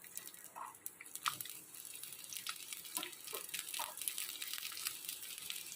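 Sliced onions sauté in hot oil in a pan for an oil brinjal curry. A soft, continuous hiss is dotted with small crackles and wet popping, close but fairly quiet.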